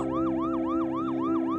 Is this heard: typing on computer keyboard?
no